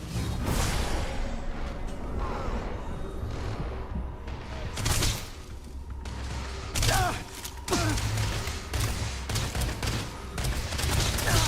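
Gunfire in the Starfield game: dense, loud volleys of shots in repeated bursts over a continuous din, with voices shouting in between.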